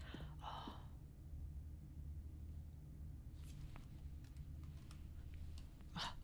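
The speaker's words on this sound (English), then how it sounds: "I thought typing in 914 might do something." Keys are tapped to enter a code on a keypad in The Stanley Parable video game: a few faint, scattered clicks over a low steady hum, with no voice.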